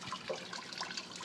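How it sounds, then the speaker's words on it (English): Water bubbles out and sprinkles down through the holes of a vertical garden planter on a vinyl post, a faint, steady trickling and splashing. "Water bubbling out and sprinkling down the holes."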